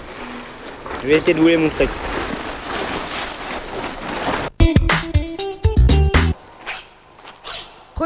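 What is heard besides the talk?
crickets chirping aboard a sailing boat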